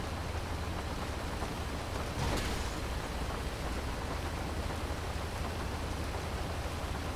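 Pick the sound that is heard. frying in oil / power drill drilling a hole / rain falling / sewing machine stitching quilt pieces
rain falling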